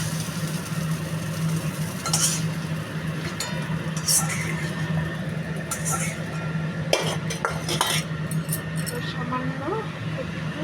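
Sautéed cabbage and broccoli are scooped out of a pan in a home kitchen, giving a few sparse metal scrapes and clinks over a steady low background hum.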